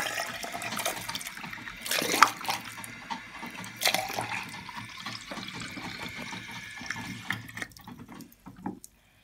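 Tap water runs steadily into a pet mouse's water bottle while its cage is being cleaned, a continuous splashing flow with a couple of louder gushes, close by, and no talking.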